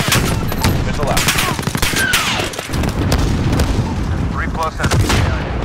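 Missile launch and explosions in a Call of Duty game, a dense stretch of loud gunfire and blasts with rapid cracks and booms running continuously, with radio chatter mixed in.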